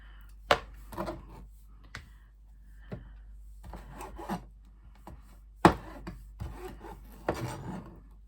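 A knife cuts a mango into pieces for dehydrating, producing scattered dull knocks and short rasping slices against a board. The sounds come close and sparse, with quiet gaps between strokes.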